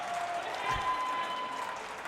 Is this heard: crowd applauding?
yes